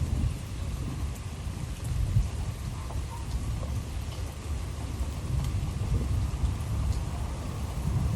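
A strong afternoon thunderstorm in Troy, Illinois pours steady heavy rain with a deep continuous rumble of thunder underneath, loud and close throughout with no voices.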